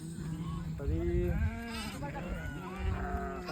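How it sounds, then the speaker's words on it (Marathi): A large herd of about 300 goats, including young kids, bleating in overlapping wavering cries, several calls rising and falling at once against a steady outdoor murmur, with some voices faintly mixed in. "300 बकरे आहेत."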